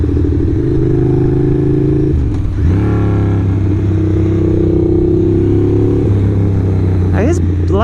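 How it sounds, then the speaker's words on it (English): Ducati 821 motorcycle riding on an open road at dusk, engine droning steadily and loudly close up, with a brief gear change and rev dip midway and a rise in pitch near the end. "I love riding the bike in this kind of weather"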